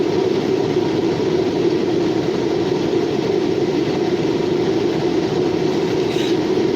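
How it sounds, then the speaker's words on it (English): Norfolk Southern local hopper freight train rolling past in New Castle, Pennsylvania: a steady, continuous rumble and rail roar at moderate distance, unbroken throughout with no voices. "There's a local hopper train first, and then later it was a mixed freight later on."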